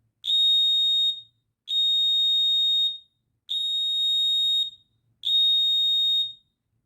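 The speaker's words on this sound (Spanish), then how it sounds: "Cuando le conectamos los dos cables a la pila, el zumbador se activa" An electric buzzer wired to a battery sounds four times, each a steady piercing high tone about a second long, separated by short silences.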